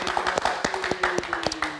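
A short burst of hand clapping at a live Indonesian TV talk show, a quick run of sharp claps close by with no talk over it.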